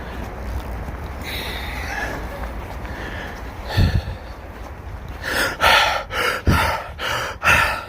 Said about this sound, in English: why are you breathing so heavy?